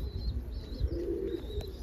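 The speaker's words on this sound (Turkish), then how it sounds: "Çok ürkek, kızgın erkek güldür güldür ötüyor." An agitated male pigeon gives a soft, rolling coo, fairly quiet and close, over low rumbling background noise for just under two seconds.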